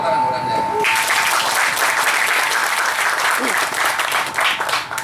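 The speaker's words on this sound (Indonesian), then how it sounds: "Tepuk tangan Kodam Jaya" Loud, sustained applause from a crowd at a Kodam Jaya military community event in Bekasi, starting abruptly after a brief quiet and continuing steadily to the end.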